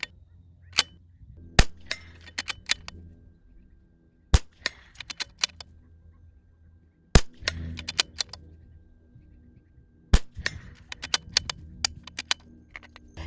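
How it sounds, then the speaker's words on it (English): Rimfire rifle shots fired at a 200-yard range, about six sharp reports spaced irregularly across a quiet outdoor background with small clicks and handling noise between shots. "I'm going to send some rounds down at 200 yards"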